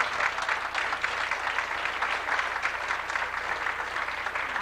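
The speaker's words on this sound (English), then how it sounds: "I'd like to give you a round of applause for this great affair." Steady applause from a crowd at a high school baseball awards event, dense continuous clapping that holds at an even level throughout.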